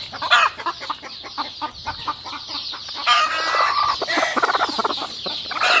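Native country chicken chicks on a farm peep and cluck continuously in a dense, busy chorus. Sharp calls overlap throughout, growing a little louder toward the end.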